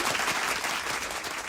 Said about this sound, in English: Big round of applause to both the winners within Group